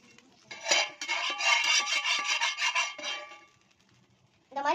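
A dosa ladle rasps and scrapes across bread while spreading oil and topping for a bread pizza, a steady run of rubbing strokes for about two seconds that trails off into near quiet before a brief scrape returns at the end.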